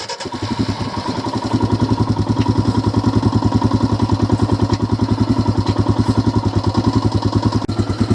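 A Royal Enfield Himalayan motorcycle engine starts and then runs in gear with a loud, steady, rapid single-cylinder thump, heard close up throughout.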